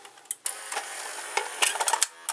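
A Sanyo Beta VCR mechanism starts up after its pulley is turned by hand, giving a run of sharp clicks and clatters and light mechanical whirring at close range, with no talk.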